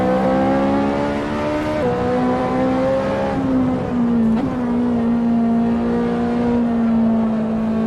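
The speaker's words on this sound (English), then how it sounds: "I have some tire scratching there, but that's normal actually. You should be able to hear it" A racing video game car played on a Thrustmaster Ferrari 458 Italia wheel holds a loud, steady engine tone that shifts gear once. Over it runs a thin, drawn-out tire squeal, near and continuous, with no voices.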